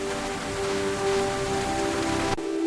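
Rain falling in a steady, even hiss of dense drops, continuous and fairly loud until it cuts off abruptly near the end, with a faint constant hum underneath.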